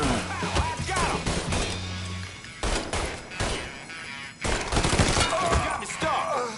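Bursts of video-game gunfire from Mafia 3, with rapid volleys and single sharp shots spread across the stretch, some loud and close, broken by brief lulls, with faint game voices mixed in.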